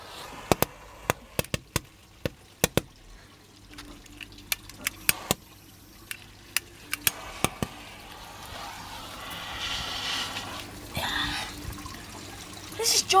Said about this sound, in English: this is a roll from a cap gun. This is what happens when you mix up the fire.